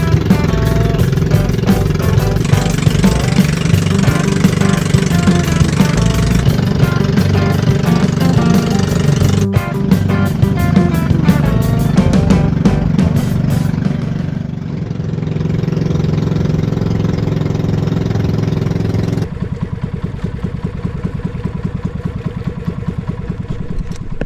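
Motorboat engine drones steadily on a boat ride to Dalutan Island in Biliran, a loud close mid-pitched hum that shifts in tone partway through and then settles into a rougher idle.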